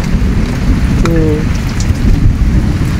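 Steady rain falls outdoors as a loud, continuous hiss and patter, with a brief animal-like call partway through and no speech.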